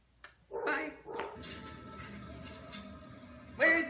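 A small dog gives a few short, faint barks and whimpers in a quiet room.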